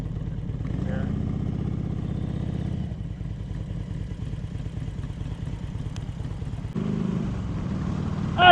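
A motorcycle riding on the road, a steady mid-pitched engine drone with rhythmic pulsing, heard close from the rider's position with a brief clatter near the end.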